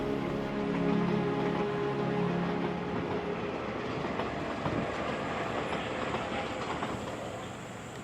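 The Desert Express train rolling along the edge of the Kalahari Desert in Namibia, a steady loud rumble and rattle of railcars with faint clickety-clack, continuous throughout.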